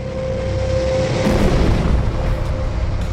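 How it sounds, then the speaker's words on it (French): A gigantic meteorite impact on the Moon roars as a loud, continuous, rumbling explosion that swells and holds steady, with a thin tone fading out beneath it. "Ce fut une explosion gigantesque qui a laissé un trou énorme."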